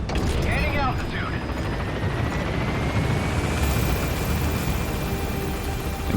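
A helicopter in the video game Metal Gear Solid V makes a flyby, its rotor roar dense and loud throughout with rumbling low end, and a voice talking over it.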